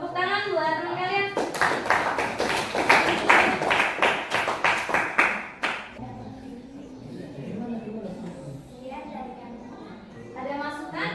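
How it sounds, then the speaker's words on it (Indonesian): Students in a classroom clap briskly for about four seconds after classmates finish a presentation, loud and close, with a teacher talking before and after the clapping. "tepuk tangan buat teman kalian"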